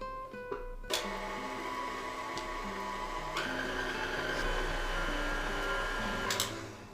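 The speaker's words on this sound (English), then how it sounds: "We're going to mix this on low for about a minute until everything is incorporated." A stand mixer on low speed works dough for sourdough dinner rolls after a room-temperature egg goes in, giving a steady mechanical whir with a brief clatter near the start and a louder knock toward the end.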